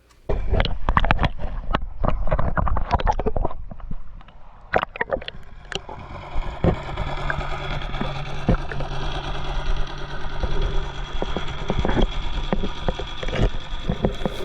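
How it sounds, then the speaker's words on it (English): Underwater rumble with splashing and bubbling at first, then a steady droning engine hum of a passing boat, heard while scalloping in Steinhatchee, muffled and continuous in the water. "you can kind of hear the engine noise underwater"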